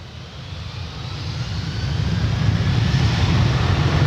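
Airbus A330 engines at Adelaide Airport, a broad roaring jet rumble that slowly swells louder over a few seconds, steady and distant-to-near with no voices.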